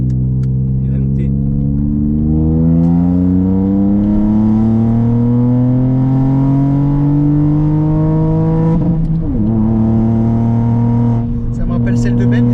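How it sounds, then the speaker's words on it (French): A Ford Fiesta Red Edition with a three-cylinder engine revs loudly and close up, its pitch climbing steadily then dropping and rising again in a continuous, sustained drone. "pour un 3 cylindres, on dirait le bruit d'une Jap"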